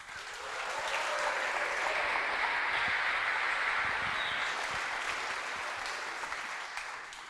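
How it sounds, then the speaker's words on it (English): An audience at a stage presentation applauds to welcome a chemistry department head, a broad, continuous wash of clapping that swells in the first second, holds steady and fades slightly toward the end. "Please give him a hand of applause."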